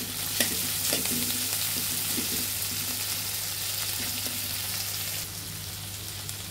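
Spices fry with salt in a pan alongside garlic and ginger for a cucumber and egg curry, giving a loud continuous sizzle marked by a few scraping stirs, close by and with no talking.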